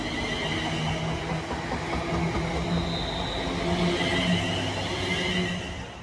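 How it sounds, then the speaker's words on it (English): A London Northwestern Rail service to London Euston pulls out of Milton Keynes Central station, giving a loud, steady rolling rumble with faint tonal whine that holds throughout and eases slightly at the end. "There goes the 1657 London Northwestern Rail service to London Euston via Watford Junction from Milton Keynes Central."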